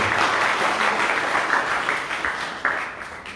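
Sustained applause from the audience at a temple singing competition, steady and fairly loud with scattered sharper claps, a faint voice beneath near the end.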